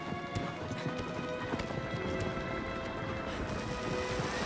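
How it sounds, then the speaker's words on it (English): Horse hooves clip-clop continuously on open ground in the video game Shadow of the Colossus, a steady galloping rhythm heard close beneath a layer of ambient game music. "Hey, you were waiting here the whole time. What a fateful steed."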